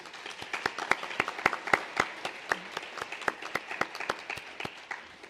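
Sparse, distinct claps from a small audience at a health disparities summit for Dr. Christensen, individual hand strikes spaced irregularly and fairly quiet, with no talk over them.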